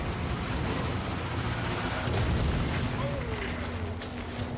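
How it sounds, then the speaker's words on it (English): Heavy, continuous rumbling booms of explosions from the Warhammer 40k Rogue Trader video game form a dense, loud wash of low blasts that runs the whole time. "Explosions! That's it. Game's perfect now. It has mega explosions."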